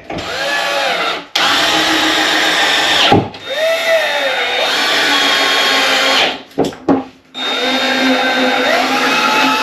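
A power drill drives screws into an RV mattress base, its motor whirring loud and close in three long bursts that rise and fall in pitch, separated by short pauses.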